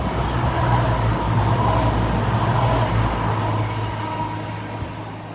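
A steady low rumble and rattle of a train rolling past nearby in the Scottish Borders, holding loud for several seconds before easing off slightly at the end.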